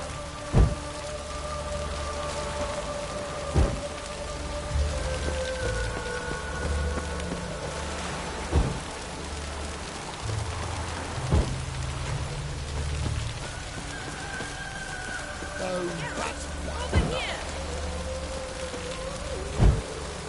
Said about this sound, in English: Rains like this come sowing time.